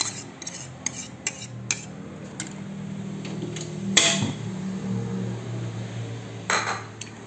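Ginger juice and sugar being stirred in a cooking pot, with a spoon scraping and clinking against the metal in a steady, moderately close rhythm and a sharper knock partway through.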